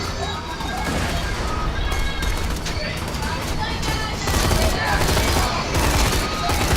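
Gunfire from the video game Borderlands 2 crackles in rapid, dense bursts throughout, mixed with mechanical clatter and impacts, with voices occasionally speaking over the action.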